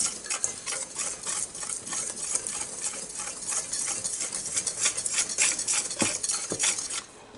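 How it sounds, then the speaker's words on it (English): Dry ingredients, including salt, whisked together in a bowl, giving a continuous brisk scratchy rustle with rapid strokes and a couple of light taps near the end, close and without talk. "We're going to whisk this all together."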